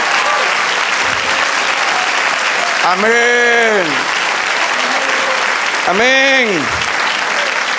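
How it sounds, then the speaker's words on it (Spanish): Church congregation applauding the Lord during a service, with steady dense clapping throughout while a voice speaks twice over it. "Otro aplauso al Señor"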